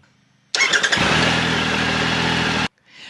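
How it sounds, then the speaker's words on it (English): A Triumph Triple motorcycle engine, on a Trophy or Tiger, cranks briefly, then fires and settles into a loud, steady run close by before cutting off abruptly, with faint sound following. "then you're going to start the engine and run it for roughly 5 to 10 minutes"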